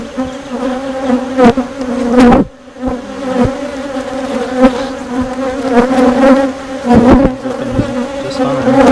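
Honeybees drone steadily at an open hive during an early July inspection. A dense, continuous buzz with a strong hum fills the clip, briefly thinning at one point before swelling again.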